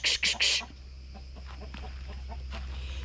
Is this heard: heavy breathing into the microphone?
no